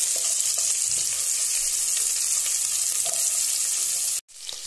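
Onion and whole spices frying in hot oil for paneer biryani, a steady dense sizzle with occasional stirring clicks, close and loud throughout, cutting out briefly near the end.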